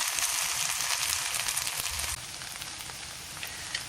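Potato cakes frying in a pan, a steady close sizzle and crackle that continues alone throughout and drops slightly in level partway through.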